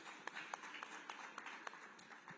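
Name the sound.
audience applause after a speech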